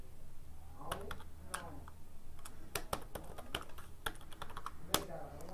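Keys on a computer keyboard tapped in short irregular bursts while a PAN number is entered for an online income tax payment, close and fairly quiet over a low steady hum.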